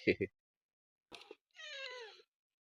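A short voice sound, then a rustle, then a cat gives one clear drawn-out meow close by; quiet gaps fall between the sounds.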